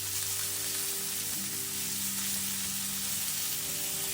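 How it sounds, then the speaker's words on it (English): Lamb loin chops sear in a hot pan, giving a steady, loud broadband sizzle that runs unbroken for the whole stretch with no talking. "I'm just gonna give the side a nice little sear"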